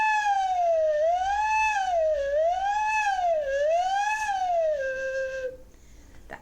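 A flute headjoint is blown hard while a finger slides inside the tube, making a wailing siren tone that rises and falls in several smooth sweeps. It is clear and close, ends with a steady note, then breaks off.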